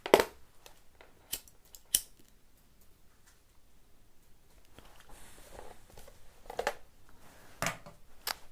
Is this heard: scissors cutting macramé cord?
yes